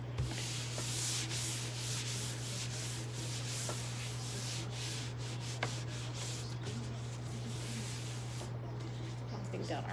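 A disinfecting wipe rubs across the skin of a lower leg before waxing, a steady soft scrubbing hiss running continuously and close with a few small knocks, set over a constant low electrical hum.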